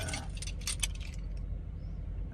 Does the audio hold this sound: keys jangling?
yes